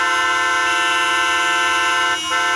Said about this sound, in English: every single car is honking